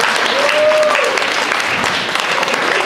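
An audience applauds volunteers at a live stage show, a loud, continuous burst of many hands clapping, with a brief whistle-like tone rising over it early on.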